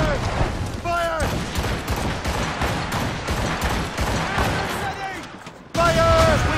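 Ship cannons fire volley after volley in Assassin's Creed Rogue, a rapid run of booming blasts with a louder burst near the end. Voices shout orders over the gunfire.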